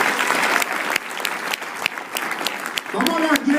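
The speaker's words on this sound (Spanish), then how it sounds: "Si le va a dar un aplauso al Señor, dele lo mejor a Él" A church congregation applauding steadily throughout, a dense wash of clapping with a voice rising over it near the end.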